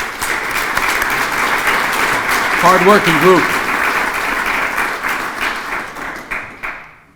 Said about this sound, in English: Give you a little round of applause.